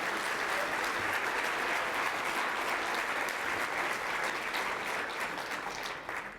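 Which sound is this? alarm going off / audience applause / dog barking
audience applause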